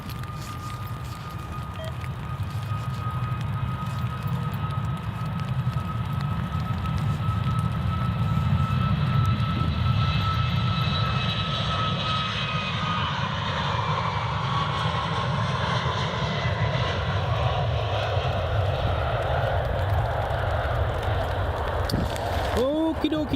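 A Ryanair airliner at Edinburgh Airport roars loudly and steadily with broadband jet engine noise and a rising whine, building to a peak midway, heard alone and close to distant.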